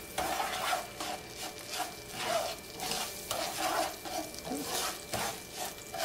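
Brown sugar stirred into melted butter in a pan, a steady close-up scrape and soft bubbling sizzle that swells in repeated stirring strokes, with no talking.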